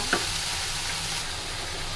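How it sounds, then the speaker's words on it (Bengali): Ground turmeric, chili and coriander hit lightly fried spice paste in a pan, giving a steady, close sizzle with a brief clink of stirring at the start. "বাটা মশলাগুলো হালকা একটু ভাজা হয়ে এলে এর উপর আমরা দিয়ে দিচ্ছি গুঁড়া মশলাগুলো"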